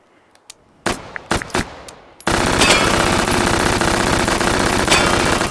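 MP5 submachine gun fire in the VR shooting game Hot Dogs, Horseshoes and Hand Grenades: a few scattered single shots and metallic clacks, then a loud, sustained automatic burst running several seconds.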